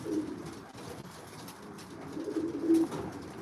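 Pigeons in a loft murmur with low, steady cooing while they feed, a soft continuous burble close by with no talk over it.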